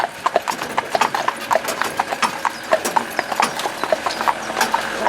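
A horse in harness pulling a cart clip-clops at a steady walking rhythm, each hoofbeat crisp and close, continuing without pause and with no voices.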